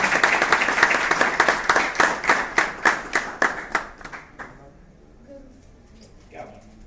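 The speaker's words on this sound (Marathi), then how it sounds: "या एकदा टाळ्या वाजवतो" An audience at a Shivjayanti gathering at Shivneri claps together in a steady, rhythmic beat. The claps fade out after a few seconds into quiet room murmur.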